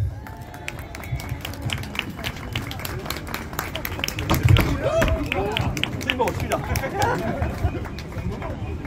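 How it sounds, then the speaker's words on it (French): An outdoor crowd at a Paris farmers' support demonstration claps for a cyclist, scattered sharp clapping building under chatter and crowd noise, with people talking nearby. "Je vous prie d'applaudir Alain à vélo"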